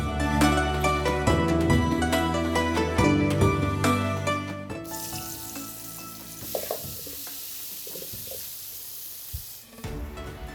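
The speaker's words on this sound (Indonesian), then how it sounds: "Selanjutnya kita akan tumis sebagian bumbu." Spice paste sizzles loudly as it is stirred and sautéed in a hot pan for an Indonesian otak-otak bandeng milkfish dish, then the sizzle changes to a softer hiss with a few clinks of a utensil.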